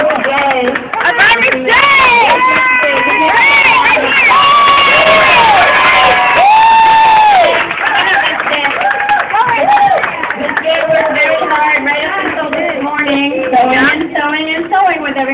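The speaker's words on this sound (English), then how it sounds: "So give them another round of applause because they did it on their own" An audience applauds and cheers loudly for a group of girls, steady clapping mixed with shouts and children's voices, with a voice speaking over the noise.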